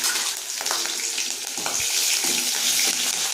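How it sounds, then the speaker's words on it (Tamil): Mustard seeds splutter and pop in hot oil in a pan while cooking a tomato chutney, a dense steady sizzle broken by sharp crackling bursts, close and loud, with no talking. "கடுகு பொரிஞ்ச உடனே"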